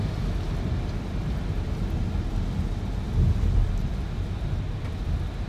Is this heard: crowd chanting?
no